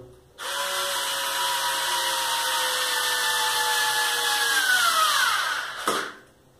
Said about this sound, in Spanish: también se puede utilizar algún tipo de destornillador eléctrico.